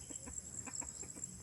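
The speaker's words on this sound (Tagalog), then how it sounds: "So, yan yung manok ko." A farmyard chicken clucks nearby in a short, quick series of soft, rhythmic calls over a faint steady hiss.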